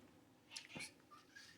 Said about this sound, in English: my kitty cat's going to talk now too